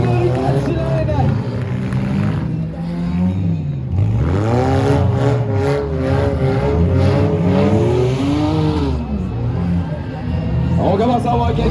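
Four-cylinder race cars roar around a track, their engines revving and sweeping up and down in pitch as they pass close by, loud and continuous, while an announcer talks over the noise.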